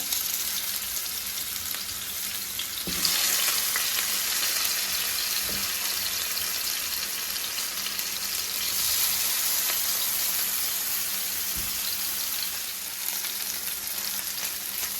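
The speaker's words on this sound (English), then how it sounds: "And I do want to sear my oxtail." Oxtail pieces searing in a hot pot give off a steady, loud sizzle and crackle with faint scraping of meat being moved, no voices over it.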